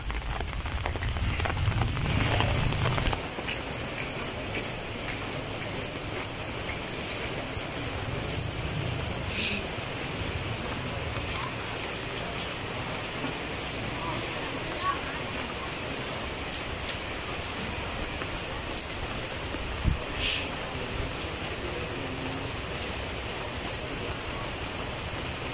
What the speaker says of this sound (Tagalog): Ayan po guys, umuulan po siya.